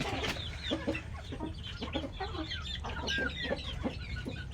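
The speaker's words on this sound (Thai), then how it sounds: "นี่ครับไก่" Several chickens cluck in short, busy bursts close by, a steady chatter of hens with no voices.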